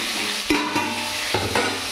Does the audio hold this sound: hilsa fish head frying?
yes